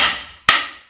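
Hammer striking a welded scooter fork, two sharp metallic blows about half a second apart, each ringing bright and then decaying, close and loud with no talk.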